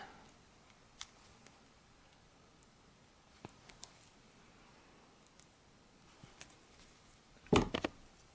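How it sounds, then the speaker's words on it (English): Scissors snip wire toes to equal length for a spun cotton bird figure, giving a few faint, scattered clicks in a quiet room and a louder cluster of snips near the end. "Then you want to cut them of equal length."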